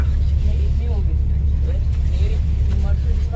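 A bus in Moscow rumbles with a low, steady engine drone while people talk quietly over the noise of the ride.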